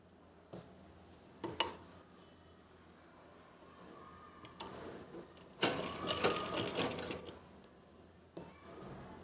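A sewing machine stitching cloth for a lace table cover, running in short mechanical bursts with quiet pauses between and a longer run near the end, fairly faint and with no talk.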